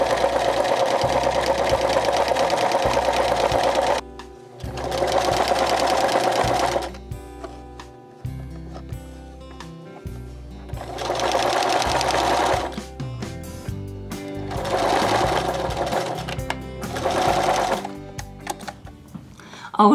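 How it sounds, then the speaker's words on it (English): A sewing machine stitches down a dress seam in several loud bursts of rapid whirring, separated by short pauses. There is no talking. "position it under the machine, and sew the seam."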